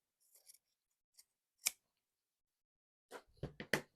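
Scissors snip the cuff off a flannel shirt sleeve in a quiet room. A few light clicks are followed by a single crisp cut, then a quick cluster of sharp snips close by.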